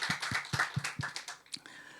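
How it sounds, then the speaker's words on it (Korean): A church congregation at a Korean early-morning worship service claps in welcome, sparse rhythmic hand claps in short bursts, fairly close and moderate, fading toward the end. "큰 박수로 한번 환영하겠습니다."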